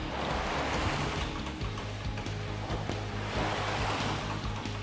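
A rowing machine in use during a gym induction gives a broad, rushing whoosh that swells and eases in slow strokes, fairly close and steady without talk.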